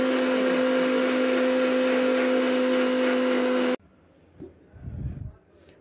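Blender motor spinning a jar filled with water and a little dish-washing liquid, a loud steady whine that stops abruptly, followed by faint handling knocks.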